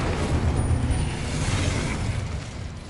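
Fiery Incendio spell blast cast in Hogwarts Legacy, a dense roaring whoosh of flame with a low rumbling body, sustained and loud for about three seconds with no talk.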